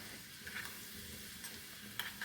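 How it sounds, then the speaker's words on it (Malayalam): Onions fry in ghee in a pan on the stove for a Karkidakam medicinal rice porridge, giving a soft, steady sizzling hiss with faint stirring clicks, heard close and alone. "നെയ്യ് അടുപ്പത്ത് വെച്ചിട്ട് അതിൽ ഞാൻ ഉള്ളി ഇട്ടിട്ട്"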